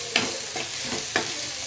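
Tomato frying in a pan for egg rice makes a constant sizzle while a spatula scrapes through it in four even, rhythmic strokes close by.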